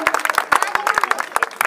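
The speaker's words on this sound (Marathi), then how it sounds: "सगळ्यात जोरात टाळ्या आपल्या मंडळासाठी वाजवा सगळ्या महिलांनी" A women's audience at a Home Minister paithani game show in Baramati claps loudly, with sharp, dense hand claps in an irregular burst and voices mixed in beneath.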